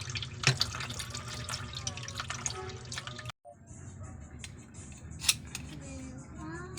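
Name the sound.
scraping mussels clean while cooking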